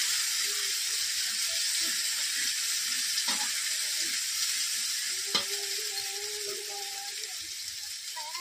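A paste of cumin, coriander, ginger and chili sizzles steadily in a pan for a mixed vegetable dish, a close, even hiss with a few scraping stirs and one sharp clack, gradually easing off.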